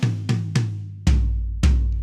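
A 3/4 drum fill played around the kit: five sharp, evenly paced hits stepping down through the toms, each ringing out before the next, close and loud with no talking.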